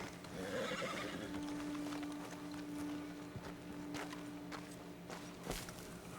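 Horse whinny and soft clip-clop of hooves in Red Dead Redemption 2, set on a ledge overlooking a road, with a loud whinny early on and scattered hoof steps and ambient outdoor noise throughout.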